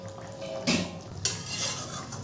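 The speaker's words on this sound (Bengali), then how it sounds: "একটু খুন্তি দিয়ে হালকা করে নেড়ে দেবো আলতো হাতে" A spatula stirs Bengali dhokar dalna, lentil cakes in curry, in a metal pot, giving two clear scraping clanks against the pot over a quiet background.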